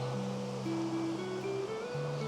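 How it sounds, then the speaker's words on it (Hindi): Wide, fast-flowing river near the Line of Control at Keran, a steady broadband rush of water heard alone and continuously, with a faint tonal hum running beneath. "पानी का फ्लो देखिए कितना तेज है, कितनी चौड़ी नदी है ये।"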